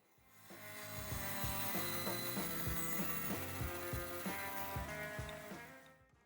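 A handsaw cuts a notch into the end of a wooden handle for a rotary sander, with steady back-and-forth strokes in a regular rhythm under a tonal musical backdrop.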